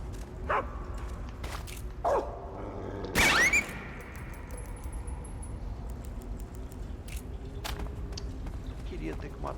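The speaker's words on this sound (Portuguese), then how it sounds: "Que droga, cachorro." Dogs bark in Metal Gear Solid 3: Snake Eater, a few short sharp yelps spaced across the stretch, mixed with game ambience and footsteps while someone talks over them.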